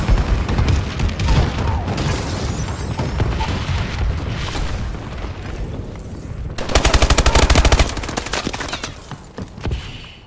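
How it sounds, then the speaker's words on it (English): Video game battle audio with continuous dense gunfire and explosions from a bombing run, ending in a loud, fast automatic-weapon burst toward the end; the whole passage is loud and busy with no talk. "Friendly bombing run incoming."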